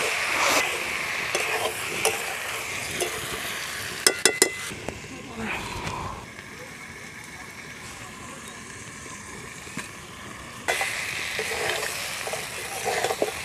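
Duck meat sautéed and stirred in a pan sizzles softly, broken by a few sharp clinks of a spoon against the metal, then quiets before the frying swells again; a voice speaks at times.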